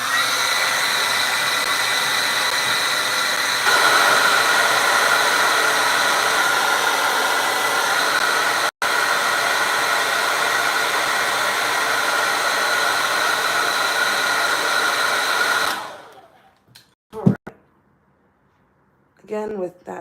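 Hair dryer blowing on a wet acrylic painting of a Scottish Fold cat, a loud steady close whoosh lasting about sixteen seconds before switching off, followed by brief handling noises and a short voice.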